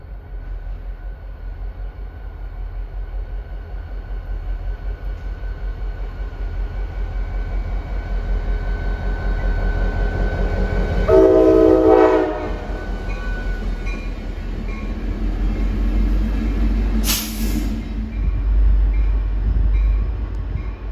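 A train hauled by ALP-46A electric locomotives passes at a mountain station, a steady loud rolling rumble of wheels with a brief screeching tone and a sharp high squeal partway through.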